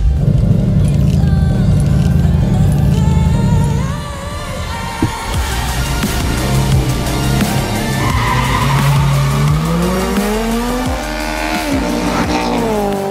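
A Ford Mustang GT 5.0 drives loudly nearby, its V8 revving up and down through shifting pitches with some tire noise, over about thirteen seconds with no talk.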